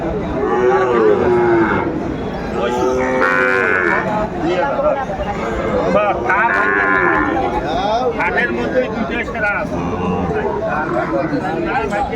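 Cattle, Sahiwal cows, calves and bulls at a livestock market, moo repeatedly, several long drawn-out calls overlapping, amid steady crowd chatter and background noise.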